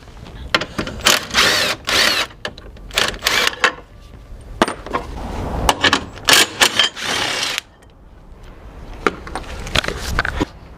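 A ratchet with 16mm and 15mm sockets removes the bars from a BMW N63 engine, producing quick, close bursts of clicking ratchet strokes in an uneven rhythm, with short gaps between them.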